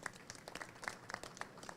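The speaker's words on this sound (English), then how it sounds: "give Bo Graff and Insane 51, our Greek artist, a warm round of applause" A small crowd applauding Greek street artists at an outdoor mural unveiling, scattered individual claps with uneven rhythm, fairly faint and thin.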